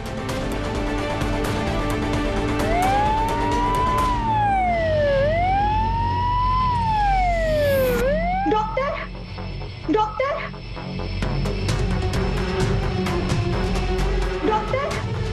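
An ambulance siren wails loudly and close by, rising and falling in long sweeping tones before cutting off, over a steady engine rumble, with voices talking in the scene.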